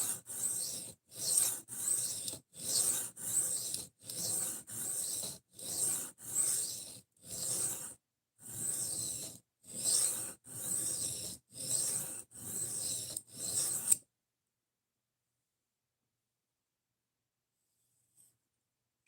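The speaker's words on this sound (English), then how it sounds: "I don't have a favorite sharpening system because I do it all on plates." A knife blade is drawn across sharpening plates in steady rhythmic strokes, about a dozen close, raspy scrapes evenly spaced, then the strokes stop and near silence follows.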